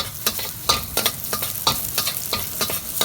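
Onion goes into a hot pan and fries with a continuous sizzle, broken by sharp, regular scrapes and stirring clatter from a utensil, heard close up with no voices.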